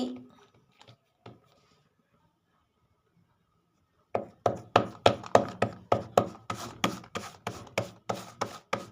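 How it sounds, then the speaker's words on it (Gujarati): Jowar masala rotlo dough is patted into a round by hand, a brisk series of soft, evenly spaced slaps in quick rhythm, close and clear after a quiet opening with a few faint knocks. "હવે આપણે રોટલો ટીપવાનું શરૂ કરીશું રોટલાને ધીરે ધીરે ગોલ આકારમાં આપણે ટીપી લેવાનું છે"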